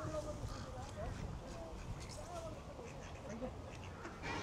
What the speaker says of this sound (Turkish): Bir dünya ördek de var şurada baksana